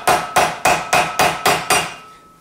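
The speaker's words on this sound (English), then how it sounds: "I need a little bit hammering" A hammer strikes a tool onto a tight connecting rod bolt on a Toyota Corolla 1.8 VVT-i engine: six sharp metallic blows at an even rhythm, loud and close, with ringing decay and no speech.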